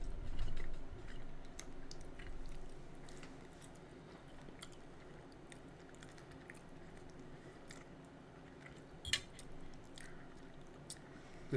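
A bite of taco with tortilla and cheese is chewed, giving soft, quiet, wet munching with occasional faint crunches over a few seconds of close mouth sounds.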